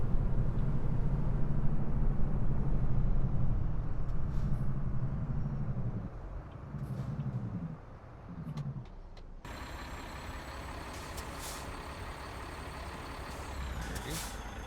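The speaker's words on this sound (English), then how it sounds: "Put the Jake brake on." Jake brake on a Mack Pinnacle truck in a driving simulator game, a loud, low, chattering engine rumble that drops out in choppy bursts midway before resuming, with someone speaking over it.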